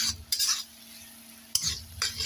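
Garlic fried and stirred in a pan, with a few brisk bursts of spoon scraping over a steady close sizzle and short quiet gaps between strokes.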